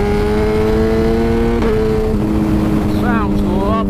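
A 2010 BMW S1000RR motorcycle with an Akrapovic exhaust holds a loud, close engine note that dips, then rises sharply in pitch as it revs near the end.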